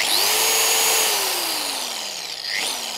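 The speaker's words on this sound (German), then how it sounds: "Ich bringe die Maschine mal schnell in den Rotationsmodus." Lake Country UDOS 51E polisher running in rotary mode, a loud continuous motor whine with a pitch that rises and then gradually sinks, close up and steady, with nobody speaking.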